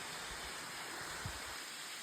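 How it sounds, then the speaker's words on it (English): A waterfall along a wooded trail, heard through the trees: a faint, distant, steady rushing hiss with no breaks and nothing else standing out. "I know you can hear it if you can't see it. We are coming to our first real official waterfall."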